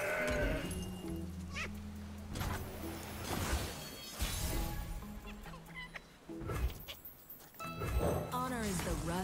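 Bleats from a mountain goat in the Legends of Runeterra card game ring out among layered in-game effects, crashes and musical tones, with a commentator's voice also heard.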